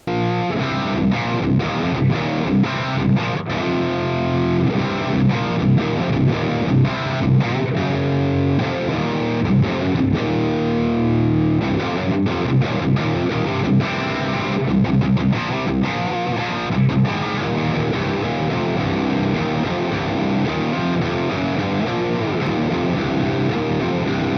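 Loud, heavily overdriven electric guitar through a Splawn Nitro high-gain amplifier's overdrive channels chugs through riffs and chords without pause, thick distorted tone filling the whole stretch, with no talking.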